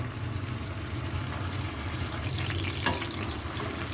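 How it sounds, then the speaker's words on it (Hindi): Chopped medium onions frying in about a third cup of oil with whole cumin seeds, a steady close sizzle with a faint stir partway through and no talking. "अब प्याज को हल्का गुलाबी होने तक फ्राई करेंगे जी"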